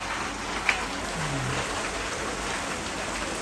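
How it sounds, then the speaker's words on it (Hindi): Steady rain pours down in a continuous, even hiss, with one small sharp drip or tap near the start and no voices. "अभी तक जो है ना बरसात चल ही रही है"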